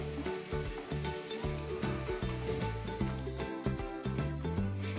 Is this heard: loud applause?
no